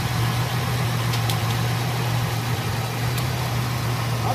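A 1967 Impala 4-door Sport Hardtop with a swapped LS engine idles smoothly, producing a steady low hum with a constant pitch, heard close and alone, with no revving.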